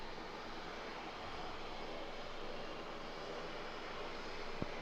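A Japan Air heavy jet airliner taking off from runway 27 at San Diego airport makes a steady, distant broadband engine roar that stays even throughout, with no voices.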